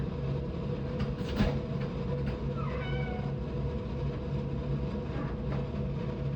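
A cat meows a few times outdoors near Rockfish Gap on the Appalachian Trail, over a steady low rumble of machinery or passing rail traffic, fairly faint against the background.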